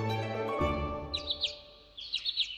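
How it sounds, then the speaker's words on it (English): Birds in the video game Fairy Fencer F chirp in two short bursts of quick tweets over a soft sustained musical tone, the whole scene quiet and calm. "Chirp, chirp, chirp, chirp"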